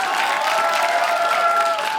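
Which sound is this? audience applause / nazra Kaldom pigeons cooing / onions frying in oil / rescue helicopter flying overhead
audience applause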